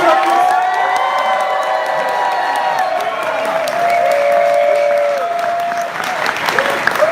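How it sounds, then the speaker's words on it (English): Audience at a Drake University rally for Andrew Yang erupting in loud, sustained applause with cheering, whoops and shouts, a dense crowd sound filling the room throughout. "Can I get a big round of applause for Andrew Yang?"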